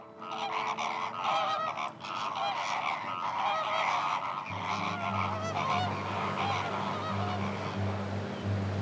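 Dense honking of geese and other waterfowl at a coastal lagoon in Corsica, a loud continuous chorus of overlapping calls from a large flock, with a lower steady drone joining partway through.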